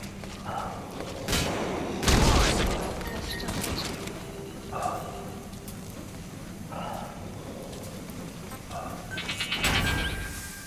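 Gunfire from Metal Gear Solid V: several sharp shots burst out at intervals amid game ambience, with a denser volley near the end, while voices speak over the action.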